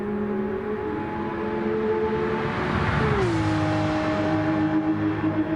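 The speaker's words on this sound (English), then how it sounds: "the extraordinary noise of these cars. Listen to it by" A Porsche race car engine in a racing video game at Le Mans whines past, its steady drone dropping sharply in pitch midway as it goes by, then continuing lower.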